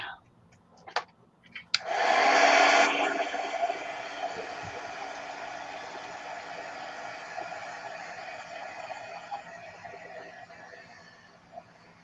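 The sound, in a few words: hair dryer or heat tool drying craft paint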